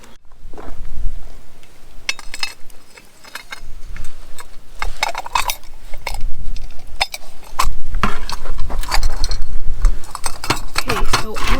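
A Coghlan's pie iron is handled while a patty goes inside, giving irregular metallic clanks, scrapes and clicks at close range. The knocks come in uneven bursts, with a voice speaking at times.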